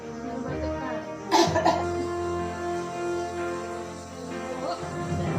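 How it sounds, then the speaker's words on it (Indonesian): A patient coughs during an effective coughing and deep breathing exercise, one brief, fairly soft burst of coughs in a quiet room, with a voice speaking around it. "Dan tarik nafas, baru batukkan."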